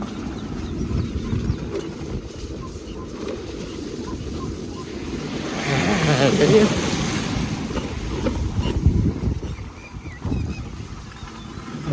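Rushing runoff water from the hills roars steadily, swelling louder in the middle, a broad turbulent wash like a fast-flowing runoff stream nearby.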